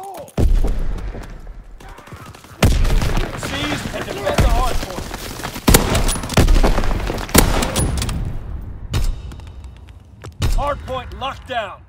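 Grenade blast and rattling gunfire in Call of Duty WWII Hardpoint multiplayer, with loud sharp bangs and bursts scattered through the scene while game voices shout callouts over the combat.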